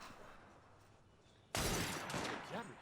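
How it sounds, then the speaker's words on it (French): Gunshot in the video game Assassin's Creed Syndicate, one sudden loud blast cutting in over quiet game ambience and ringing on with a short noisy tail. "Cela ressemblait à un second coup de feu."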